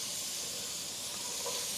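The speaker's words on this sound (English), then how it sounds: "We're going to put in our tomatoes. It's going to be a little bit noisy now when I put this in here." Tomatoes added to a hot pan give a continuous, fairly loud sizzling hiss, steady throughout with no talking over it.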